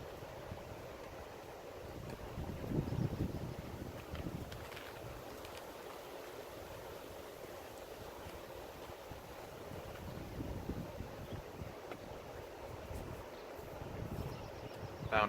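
Wind blows steadily outdoors, buffeting the microphone in a continuous low rush with gusty swells, no talking over it.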